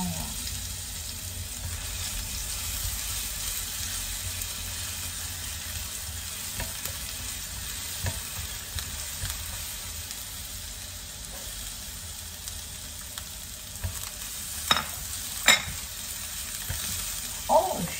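Garlic frying in a pan for pasta carbonara gives a steady, close sizzle throughout, with a few brief clinks and bumps near the end and only faint background voice.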